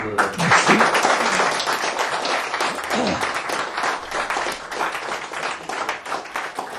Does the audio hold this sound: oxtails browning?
no